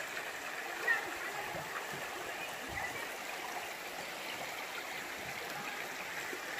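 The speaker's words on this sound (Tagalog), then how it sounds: "pakita natin yung daloy ng ilog, yung tubig." A small river in Dacdacanan, San Joaquin, Philippines, rushing steadily over rocks, a continuous broadband wash of flowing water close by, with faint voices underneath.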